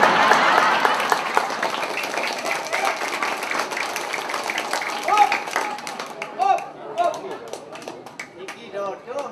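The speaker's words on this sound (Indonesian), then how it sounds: "Kerasan tepuk tangan pan lebih keras dan gambar lagi." Audience applause at a Balinese Arja comedy performance, a dense wash of clapping that thins out midway, with voices and laughter breaking through over the fading claps.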